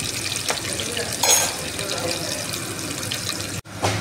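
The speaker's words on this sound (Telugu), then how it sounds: "ఇలా ఇవి దూరగా వేపుకోవాలి." Chopped onions fry in oil in a pot on the stove for a green chilli country chicken curry, giving a constant close sizzling hiss with a brief break near the end.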